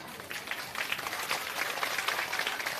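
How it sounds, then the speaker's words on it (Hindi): An audience claps at a political outreach rally in Jitapur panchayat, Murliganj block, with dense, continuous applause from a crowd heard at a moderate distance and fairly low level. "अब आप ताली बजा दिए"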